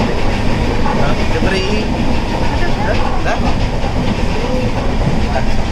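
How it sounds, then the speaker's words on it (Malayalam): Steady rumble and rattle of a passenger train rolling along the rails from Kollam to Ernakulam, continuous and loud, with faint clacking throughout. "അങ്ങനെ നമ്മൾ ട്രെയിനിൽ കയറിയിരിക്കുകയാണ്"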